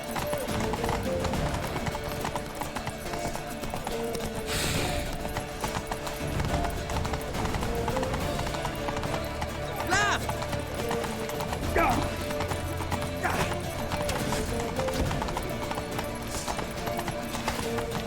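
Steady hoofbeats of a galloping horse with a brief neigh in The Witcher 3: Wild Hunt, set in a busy game soundscape with shouting voices and constant noise.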